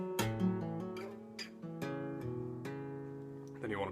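Guitar playing a riff, a short phrase of plucked notes with hammer-ons and pull-offs on the 5th and 6th strings, close and clear.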